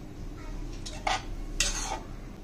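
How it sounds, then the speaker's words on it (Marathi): A spoon scrapes a couple of times against a pot, brief metallic strokes up close over a quiet background. "व्यवस्थित सगळं हलवून घ्यायचं"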